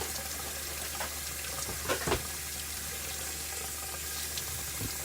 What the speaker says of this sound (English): the next thing we have to do is get our tomatoes, rinse them